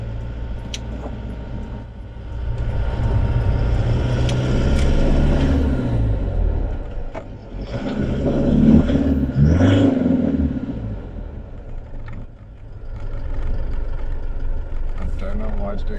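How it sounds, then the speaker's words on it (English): An Isuzu fitted with a body lift rumbles and revs as it accelerates, a low vibrating drone rising and falling over several surges, while someone talks over it. "Trying to figure out why it's making that vibration."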